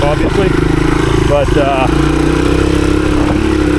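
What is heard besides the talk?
1983 Honda XR200R dirt bike riding in 4th gear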